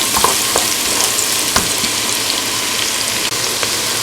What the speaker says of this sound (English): I'm going to saute that for only a minute or so, just for it to kind of cook into these peppers